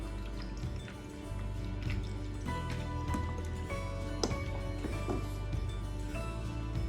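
Bacardi rum is poured over ice in a glass, making a quiet trickle of liquid with scattered soft drips and clinks.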